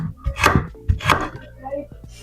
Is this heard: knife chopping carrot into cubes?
yes